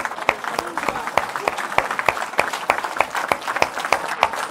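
A church congregation breaks into sustained applause, a dense, steady clatter of many hands clapping together at close range for several seconds.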